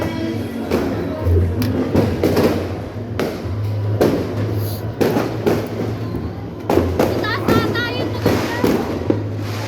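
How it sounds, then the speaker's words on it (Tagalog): New Year fireworks going off outside, a run of sharp booming cracks and thuds spaced irregularly through the stretch, some with crackling tails, while people talk and call out close by. "Sila dyan sa labas, yung fireworks!"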